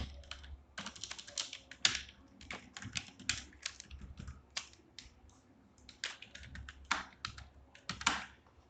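Typing on a computer keyboard to enter text in InPage, irregular bursts of quick, close key clicks with brief pauses between runs of keystrokes.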